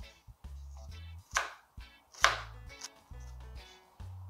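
Onions being chopped with a knife for Ethiopian bread firfir with beef: a series of quiet, evenly spaced knife thuds on a cutting board, a few sharper clicks among them, with no talking.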